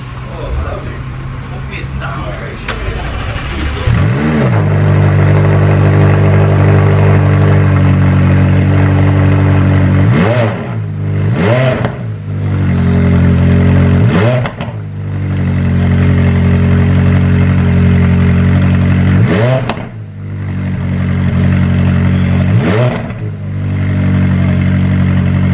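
A powerful supercar sports exhaust revs hard several times, rising sharply and falling back between bursts, loud and close, with some talking at the start.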